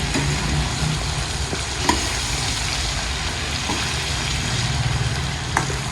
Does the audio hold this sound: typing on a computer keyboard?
no